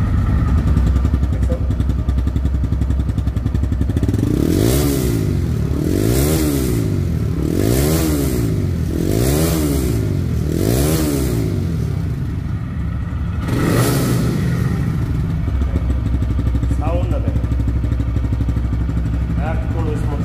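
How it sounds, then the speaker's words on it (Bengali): TVS Raider 125 motorcycle engine idling after a self start, with a steady close thrum and several rhythmic revs rising and falling, one more rev later, while someone talks over it. "শুধু সেলফে স্টার্ট টাচ করবেন সেলফ হয়ে যাবে দেখেন সেলফ হয়ে গেছে"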